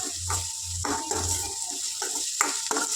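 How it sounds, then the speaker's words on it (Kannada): Ingredients sizzle and fry in hot oil in a home kitchen pan, a steady hiss broken by several sharp stirring clatters and scrapes of a utensil against the pan. "ಇದೆಲ್ಲನೂ ಚೆನ್ನಾಗಿ ಫ್ರೈ ಆಗಬೇಕು."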